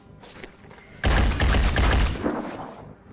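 Gunfire in the turn-based tactics game Phoenix Point erupts as a loud, dense burst of rapid shots lasting about a second, following a quieter stretch and fading back down afterward.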